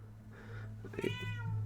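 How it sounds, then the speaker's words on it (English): A house cat named Moon meows close by, a single drawn-out call rising in pitch and holding steady, with quiet room tone before it and no talking. "Shut up, cat."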